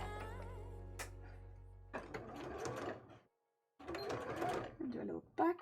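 A sewing machine stitching a tailored bra runs in two bursts of rapid mechanical whirring, separated by a brief silence, up close, with someone talking in between.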